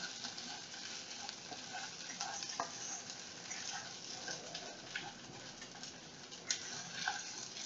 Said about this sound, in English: I'm going to stir it around in my rice